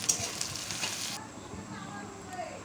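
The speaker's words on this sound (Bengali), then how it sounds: "কড়াইয়ের মধ্যে সামান্য ঘি দিয়ে তার মধ্যে গোটা গরম মশলা, এলাচ, দারচিনি, লবঙ্গ, 2 টুকরো তেজপাতা দিয়ে" Whole garam masala with cardamom, cinnamon, cloves and two bay leaves sizzling in a little ghee in a kadai, a steady close crackle that is louder at first, then settles into a softer fry.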